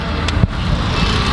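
Steady road rumble and engine drone inside a moving car carrying passengers, a close, continuous low roar with no clear voices.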